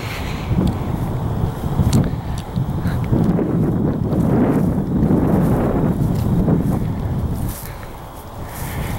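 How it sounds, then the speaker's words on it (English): Steady low rumbling wind buffets the microphone throughout, a constant blustery roar with no clear voice over it. "I'm sorry if it's a bit windy."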